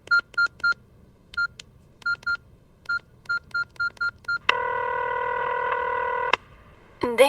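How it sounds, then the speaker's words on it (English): A telephone number is dialed on a keypad, giving a quick run of clear touch-tone beeps in short grouped bursts, followed by a steady ringback tone held for about two seconds before a brief electronic sound at the end. "and I dialed"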